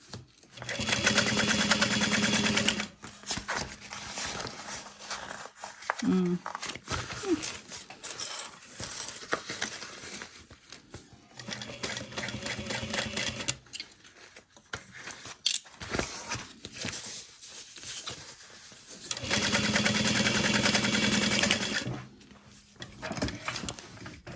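A sewing machine top stitches through a handbag seam in three loud, steady runs, separated by quieter pauses with handling noises and brief fabric rustling.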